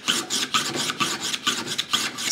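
A hand file rasps in repeated strokes along the edge of a steel card scraper cut from an old hand saw, guided over a wooden 2x4, giving about ten even, close, loud strokes.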